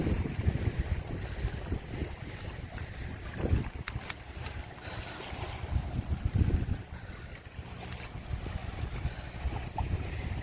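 Boat near the beach at Cilacap, a continuous low engine rumble mixed with wind buffeting and splashing water, fairly close and steady throughout, with no voices.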